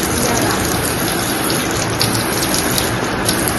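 Running water gushes steadily and loudly nearby while a small child is washed, a constant splashing flow with no break.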